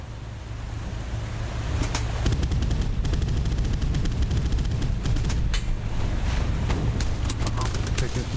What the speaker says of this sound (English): Taking some shots.